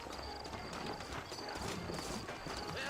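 Horse hooves clop at a steady trot in the video game Red Dead Redemption, over a busy outdoor backdrop, fairly close and moderately loud.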